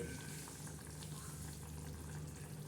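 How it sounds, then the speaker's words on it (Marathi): A pot of thick mixed vegetable curry bubbles and simmers up close, a soft continuous burbling with a low hum beneath it. "आता ही उकळत आहे"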